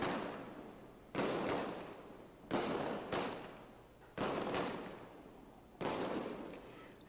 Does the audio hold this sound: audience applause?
no